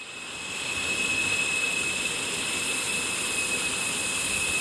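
A flying vehicle's engine in the mobile game Indian Bike Driving 3D, a loud steady jet-like roar with a thin high whine held throughout, no talking.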